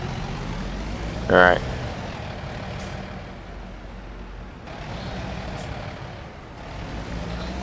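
A Volvo truck backing up in American Truck Simulator: a steady low engine drone with a brief loud air-brake or beep burst near the start, while someone speaks briefly.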